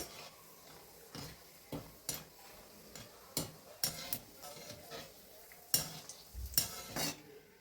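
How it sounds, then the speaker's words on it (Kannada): Cashews frying in oil in a pan for a crunchy homemade mixture snack, with soft sizzling under scattered clinks and stirring scrapes of a utensil against the pan, close by and fairly quiet. "ಈಗ ಗೋಡಂಬಿ ಹಾಕ್ತಾ ಇದ್ದೀನಿ."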